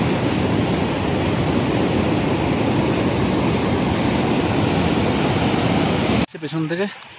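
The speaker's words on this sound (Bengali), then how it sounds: "সশব্দে সবেগে নিচলাই নালা বয়ে চলেছে" The Nichnai nala, a mountain stream on the Kashmir Great Lakes trek, rushing loudly and continuously nearby over a boulder zone; the roar cuts off near the end as a voice begins speaking.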